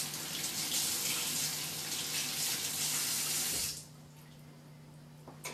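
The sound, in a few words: water running from a tap while rinsing hands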